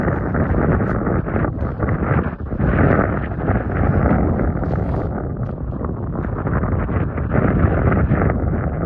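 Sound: cold wind blowing during snowmelt

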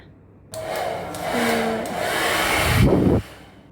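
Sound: hair dryer running in a resort bathroom

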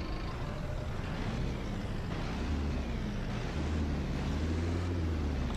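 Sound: Marcopolo Senior bus engine accelerating in Proton Bus Simulator video game

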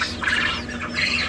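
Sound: very small chicken squawking

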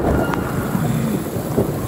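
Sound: heavy rainstorm with wind

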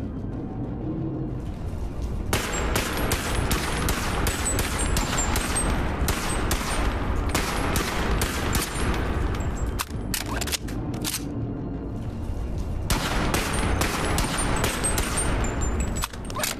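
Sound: turrets firing guns in BONELAB VR video game

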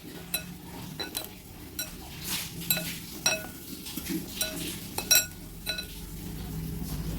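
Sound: mixing dry pakora ingredients with chopped coriander in bowl

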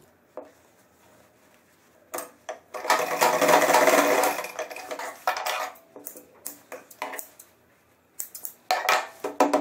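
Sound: sewing machine stitching trouser back pocket

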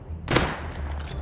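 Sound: gunfire from bots shooting at players in video game Rust

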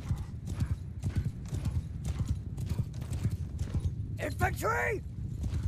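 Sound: horse hooves of horse archers in a video game

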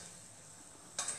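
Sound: oil sizzling and bubbling while frying cannoli shells

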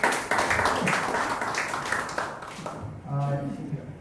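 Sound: audience applause after self-defence demonstration

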